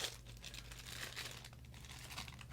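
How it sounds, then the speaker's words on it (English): Plastic packaging crinkles steadily as a soldering iron temperature tester is unwrapped, a continuous close rustle with soft crackles and no speech. "The actual device itself, I'll take it out of the plastic"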